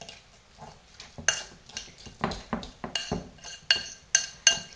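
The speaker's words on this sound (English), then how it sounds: "I'm just going to stir this around for a little bit" A fork scrapes and clinks against a bowl in an uneven rhythm while a cheesecake bite mixture is stirred, with small sharp metallic taps standing out.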